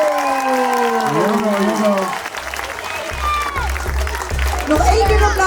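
An audience applauds at a school music day, steady clapping with some cheering under loud music and an announcer's voice, dense and close throughout.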